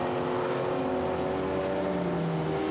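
A GT4 race car at Misano sweeps past through a left-hander toward the final corner, its engine a loud, sustained drone with steady harmonics that slowly bend downward as it goes by, with no talk over it.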